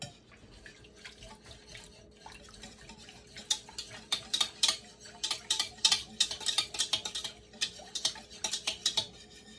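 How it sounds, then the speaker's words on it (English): Wet cake batter ingredients, tinted with liquid yellow food coloring, are stirred in a bowl for a butter streusel coffee cake, making quick clinking, splashy strokes that speed up into a steady rhythm with no talking. "Mix the wet ingredients together until combined."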